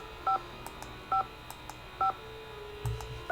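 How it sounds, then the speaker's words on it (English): Touch-tone dialing on a telephone in the Nancy Drew game Message in a Haunted Mansion, four separate beeps at an even pace over a quiet background, with no talk. "I want to phone Bess."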